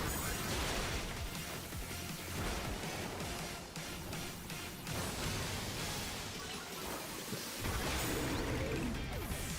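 Waterfall, a water attack in Pokemon Legends Z-A, hits Pyroar with a sustained, rushing, crashing burst of noise. Game music plays underneath, and the noise swells again toward the end.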